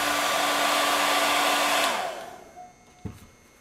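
A hair dryer blows on a coat of latex makeup, a loud steady whir that runs for about two seconds and then winds down, followed by a couple of faint clicks and handling sounds.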